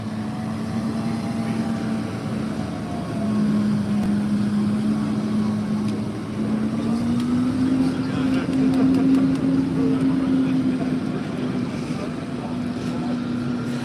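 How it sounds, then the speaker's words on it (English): A JCB tractor arrives through snow on a chilly farm morning, its engine a steady low drone that rises and shifts in pitch as it nears, continuous and fairly loud with some wind. "Tractor coming through, another JCB tractor arriving, covered in snow."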